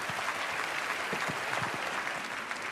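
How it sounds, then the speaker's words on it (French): Steady applause from a studio audience at a French television health-heroes event, a dense wash of clapping filling the whole stretch at an even level. "Je vous demande de l'applaudir."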